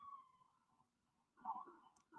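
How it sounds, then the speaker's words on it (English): Emergency vehicle sirens wail faintly on a New York street, a wavering tone heard distant and low in the background. "sorry for the sirens"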